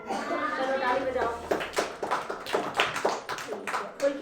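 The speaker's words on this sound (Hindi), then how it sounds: "चलो ताली बजाओ।" Young children in a classroom break into a burst of hand clapping after a tortoise-and-hare story, sharp claps rising midway and continuing unevenly, with a voice speaking at the start.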